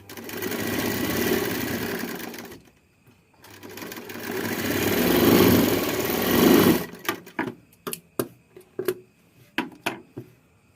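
An electric sewing machine stitches blouse fabric in two long whirring runs with a short pause between, then a string of short start-stop bursts as the seam is finished, loud and close.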